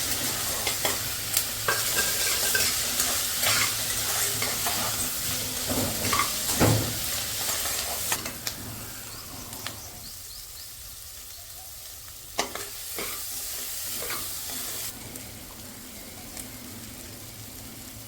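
Small tomatoes fry in a pan with a steady low sizzle while a utensil stirs, scrapes and taps against the pan now and then over a long stretch.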